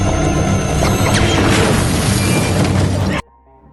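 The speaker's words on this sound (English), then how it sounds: "the bomb explodes" A bomb explodes in a dramatic movie scene, a loud sustained roaring blast with crashing debris lasting about three seconds before cutting abruptly to near silence.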